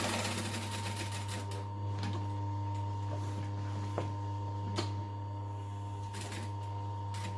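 Domestic sewing machine stitching around a fabric rectangle for a duffel bag, a steady whirring drone with a constant hum and a few sharp clicks and knocks along the way.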